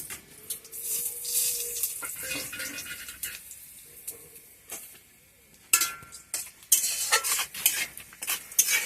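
Dry red chillies and whole cumin hit hot oil in a pan for a potato and lentil-dumpling curry, giving a bright hissing sizzle broken by metallic stirring clatters, close and fairly loud.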